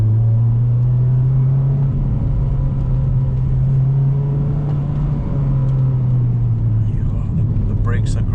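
A Honda Civic Type R FD2 drives a mountain road in Ibaraki, Japan, its engine holding a steady, loud low drone with slight shifts in pitch as it cruises continuously throughout.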